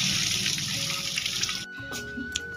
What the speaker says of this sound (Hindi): शैम्पू ले लिया अपनों बाल धो लिया